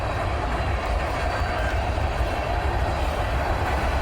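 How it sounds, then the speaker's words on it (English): A long Norfolk Southern mixed freight train with NS power rolls steadily past at Glendale Park in La Crosse, Wisconsin, a continuous close rumble with faint wheel clatter and no voices. "Norfolk Southern, some mixed trains of NS, Norfolk Southern Power, is usually a really long train."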